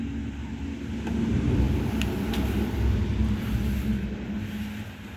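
A Nissan LD28 diesel engine turns over on a repaired starter motor, cranking steadily and evenly for several seconds in a low, continuous churning drone.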